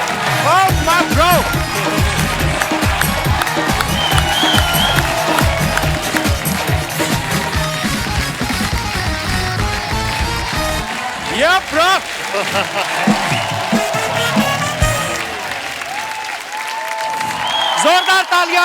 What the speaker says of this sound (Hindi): जोरदार तालियां कार्तिक के लिए